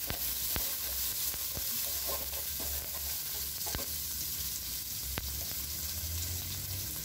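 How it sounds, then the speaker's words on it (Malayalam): Minced garlic and ginger sizzle in a spoonful each of ghee and sunflower oil, a constant close crackle broken by sharp taps of a spoon stirring against the pan, no speech. "ഇതിലേക്ക് ഒരു സ്പൂൺ നെയ്യും ഒരു സ്പൂൺ സൺഫ്ലവർ ഓയിലും ഒഴിച്ചിട്ടുണ്ടെങ്കിൽ അതിലേക്ക് വെളുത്തുള്ളി പൊടിയായിട്ട് അരിഞ്ഞ വെളുത്തുള്ളി, ഇഞ്ചി"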